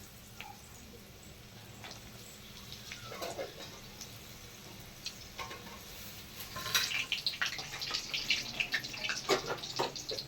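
Potato cheese balls frying in oil over moderate heat, with a low bubbling hiss that swells in the second half into busy, crackling sizzle bursts, heard up close with no talking.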